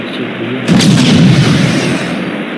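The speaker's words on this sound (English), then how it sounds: "Let me throw another flashbang." A flashbang grenade goes off in an Unreal Engine 5 game demo, a single loud close boom followed by a dense rumbling tail that fades over about two seconds.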